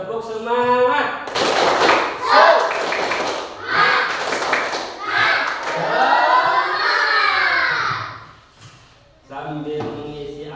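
Students in a fourth-grade Indonesian classroom perform a rhythmic spirit clap, bursts of unison clapping mixed with shouted chanting and crowd noise, with a teacher's voice speaking before and after.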